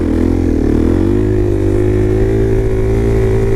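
A motorcycle engine revs hard and loud at close range for a wheelie attempt, one sustained high-revving drone that climbs and then holds steady.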